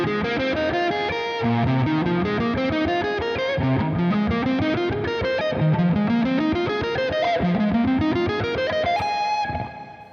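Distorted electric guitar runs up pentatonic scale positions in repeated ascending note runs, each climbing phrase restarting lower, played steadily and loudly with effects for about ten seconds before ringing out at the end.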